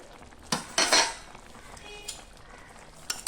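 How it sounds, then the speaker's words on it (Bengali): Vegetables for Bengali shukto stirred in a pot with a spoon, giving a few brief scraping clinks in quick succession, then a quieter pause and another short scrape near the end, close and moderately loud. "ঢাকনাটা খুলে দেবো, একটু নেড়ে দেবো।"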